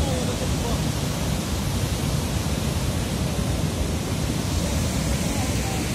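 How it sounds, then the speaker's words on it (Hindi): Floodwater rushes through Batsari village in Kinnaur, Himachal Pradesh, a loud, unbroken broadband roar of torrential water that holds steady throughout. "ये बटसरी में बहुत ही आतंक मचाता हुआ बाढ़।"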